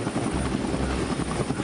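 Military transport helicopter operating from the amphibious assault ship Saipan, its loud, steady rotor and turbine roar filling the whole moment, close and continuous with no voices.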